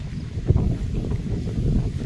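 Low rumbling wind buffeting the microphone, steady and blustery throughout with no other clear sounds.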